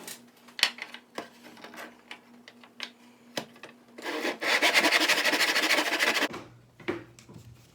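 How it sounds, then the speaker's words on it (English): Coarse 80 grit sandpaper rubbed over wood during restoration of an early 20th century clock: a few scattered knocks and taps, then a run of quick, close back-and-forth scraping strokes for about two seconds. "And then take some 80 grit sandpaper."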